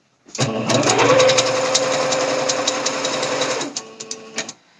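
A sewing machine runs a basting stitch on romper fabric in one continuous whirring burst of about three seconds, close and clear, followed by a few light clicks and handling noises.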